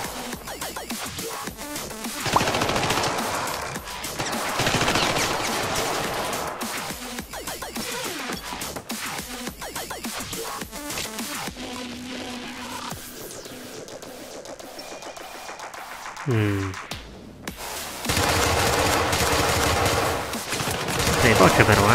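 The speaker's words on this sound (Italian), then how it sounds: "Sto sparando al nulla." Repeated bursts of automatic gunfire ring out in the video game Syndicate, dense rapid volleys broken by short pauses, a sweeping electronic tone and a brief silence, loud and close.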